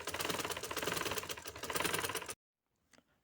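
A sewing machine stitches a ladies' neck design, a close, loud rapid mechanical rattle for about two seconds that stops abruptly, followed by near silence with one faint small sound.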